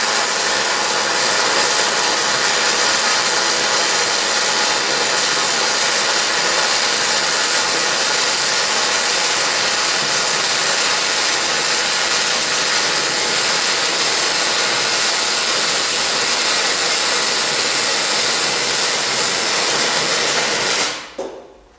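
A single continuous weld, a loud, steady, crackling hiss held close for about twenty seconds that then stops abruptly, with no talking.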